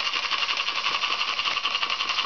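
A large working school steam engine fitted with a Watt pressure regulator and governor, running steadily with a fast, even mechanical pulsing and whirring close by.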